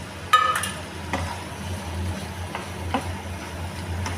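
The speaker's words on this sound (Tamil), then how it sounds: "இப்போ இதில் வந்து நம்ம பொரிச்சு வச்சுக்க சிக்கனை சேர்த்துக்கலாம்." Fried chicken pieces for chicken Manchurian tumbling into a pan with tomato ketchup sauce, then scraped and stirred with a steady low sizzle and a few soft utensil knocks against the pan.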